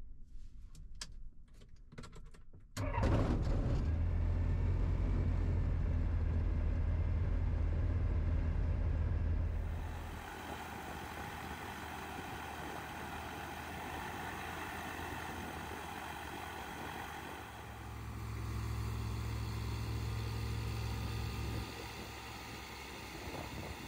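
An FK-9 MKIV light airplane's propeller engine cranks briefly, then catches and runs at a loud, steady rumble, drops to a lower idle, and rises again toward the end.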